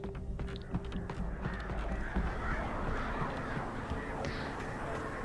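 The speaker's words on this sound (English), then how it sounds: "I can hear some birds." Crows caw in the eerie setting of Alan Wake Remastered, harsh calls repeating over a dense, rumbling ambient background, fairly near and mid-loud.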